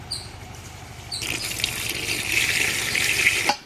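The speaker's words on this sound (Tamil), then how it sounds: "அடுத்து நம்ம தண்ணி ஊற்றிக்கும்." Water being poured into a cooking pot splashes and gushes steadily for a few seconds, growing stronger before stopping abruptly, with no voices.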